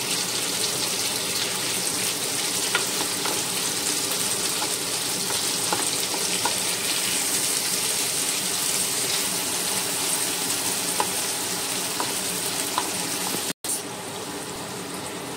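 Food fries and is stirred in a pan, a constant close hiss and crackle with occasional utensil scrapes, holding steady before briefly cutting out near the end and resuming more quietly.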